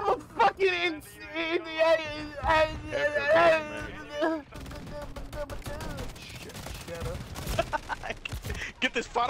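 Video-game gunfire rattles in rapid bursts and volleys beneath loud, excited shouting voices, continuing through the second half.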